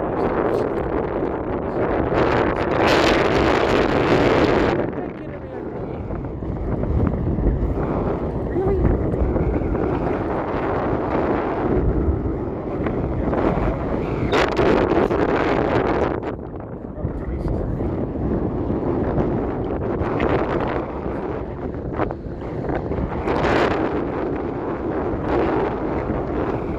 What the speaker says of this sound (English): Southwest is kicking in, isn't it? As soon as the wind got too much